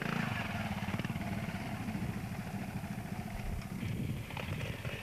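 Trials motorcycle engine running at a 1995 off-road trial, a steady mid-pitched putter with slight clatter, heard at moderate distance and fairly faint, without speech.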